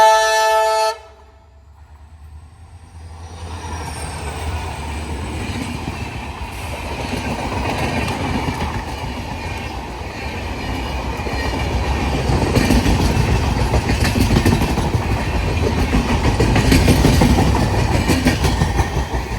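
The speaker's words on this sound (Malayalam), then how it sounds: "അടുത്തായിട്ട് വരുന്ന ഒരു ഡീസൽ വണ്ടിയാണ്" A diesel weekly express, the JSD–Vasco da Gama service run by South Western Railway, rumbles past at Suravali in Goa, its horn sounding near the start before loud, steady wheel clatter and engine roar build and hold close by.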